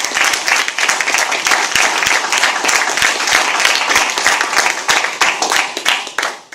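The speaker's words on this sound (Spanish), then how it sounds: "un aplauso enorme" Audience applause at a young writers' literary congress, a dense, steady burst of many hands clapping that fills the room, staying loud throughout before thinning at the end.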